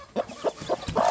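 Hens in a nest with many chicks give a run of short, clipped clucks, about five evenly spaced calls close by.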